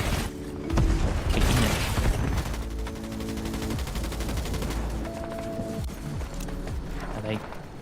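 Rapid bursts of gunfire and explosive booms rattle loudly at the start, then a sustained barrage with mechanical clatter continues under voices.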